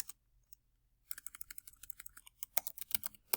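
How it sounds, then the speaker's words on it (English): Typing on a computer keyboard, a brief pause and then a quick run of close, crisp keystrokes that speeds up and gets louder toward the end, with no speech. "So I could type something like George Washington was the first president"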